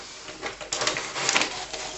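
Rapid mechanical whirring and ticking come from an Epson D1560 inkjet printer with a continuous ink supply system, its print carriage shuttling back and forth in close, fairly loud bursts.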